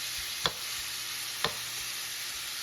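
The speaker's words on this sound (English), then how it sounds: "I'm gonna let our shrimp cook." Shrimp cooking in a pan gives a steady, quiet sizzle with two sharp clicks about a second apart, likely from a utensil, and no talking.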